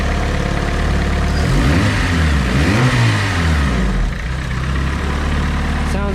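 A Suzuki Vitara with a turbocharged D16 engine and a full 3-inch exhaust runs close by, a steady idle rising briefly in a rev and settling back, with slight piston slap; someone talks over it.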